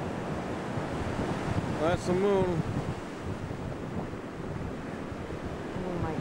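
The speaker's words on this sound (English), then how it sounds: "Those are the waves." Broadband ocean surf breaking on a Pacific shore, a steady wash with wind noise on the microphone, while a person talks briefly over it in the middle.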